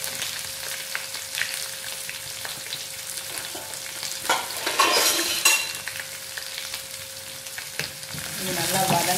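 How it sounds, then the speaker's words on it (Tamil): Sliced onions and green chillies frying in a pan for a semiya biryani, with a steady broadband sizzle throughout and occasional scraping stirs and ladle clinks growing busier toward the end; no talking. "வெங்காயம், பச்சை மிளகாய் கூட போட்டுக்கலாம்."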